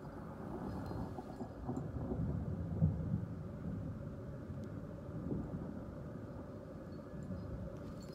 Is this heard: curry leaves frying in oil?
no